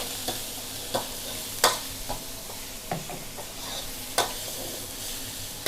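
Shrimp sizzle steadily in a large hot wok while stir-frying for a red curry stir-fry, with occasional scraping and clacking of a spatula as they are stirred.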